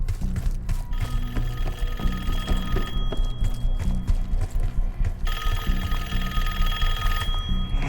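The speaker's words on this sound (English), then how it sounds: "Answer the phone." A telephone rings in Call of Duty Black Ops 6, with repeated trilling bell bursts in steady rhythm over a low game ambience and mechanical background, fairly loud and without talk.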